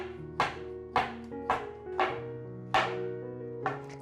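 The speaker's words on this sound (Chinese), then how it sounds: "把香菇切片" A knife slices fresh shiitake mushrooms on a cutting board, six distinct chopping taps spaced roughly half a second apart, close and clear with no talk.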